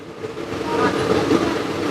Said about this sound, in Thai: รถไฟก็ได้ออกแล้วครับ